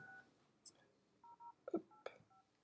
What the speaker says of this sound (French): je suis en train de composer le numéro